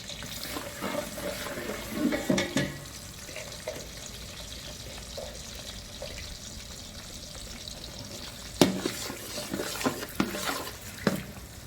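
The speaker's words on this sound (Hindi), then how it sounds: "अब हमने प्याज को फ्राई करना है" Sliced onions, about 1.5 kg, frying in melted ghee in a large pot, with a steady low sizzle under scattered stirring clatter and scraping that grows louder near the end.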